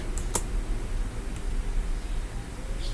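Sharp computer mouse clicks in Photoshop, a couple of quick close taps near the start and a fainter one later, over a steady hiss of background noise.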